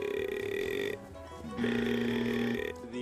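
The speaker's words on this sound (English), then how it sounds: "Guttural toad." A guttural toad's loud, steady droning croak holds for about a second, breaks off briefly, then resumes at a slightly different pitch for another second.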